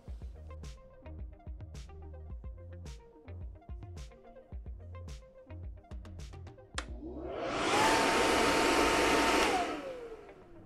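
A small electric air blower motor for a Bestway inflatable children's trampoline follows a run of clicks and knocks, then starts with a loud rising whoosh and holds a strong steady whirr for a few seconds before winding down.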